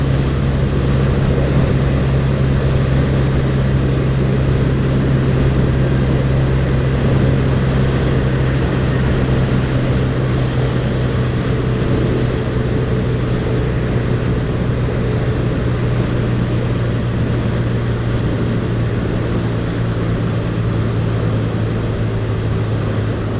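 A BMW R75 motorcycle ridden fast on an asphalt road, heard as a loud, constant engine drone mixed with heavy wind rush that holds steady from start to end, with no talking.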